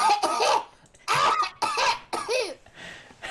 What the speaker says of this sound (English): Friendship's just coughing behind him